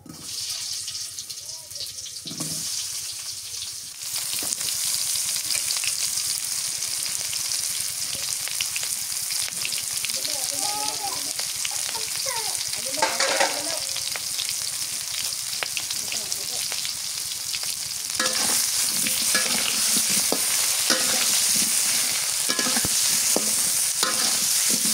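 Pointed gourd (potol) sizzles steadily in a hot pan in a village kitchen, with stirring sounds throughout and a brief soft voice near the start.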